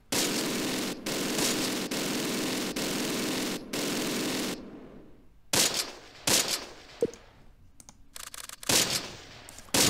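Bursts of gunfire in the WWII tactical game Close Combat: Panthers in the Fog, a long dense stretch of rapid machine-gun fire broken by brief gaps, then scattered sharper shots and short volleys against quieter background.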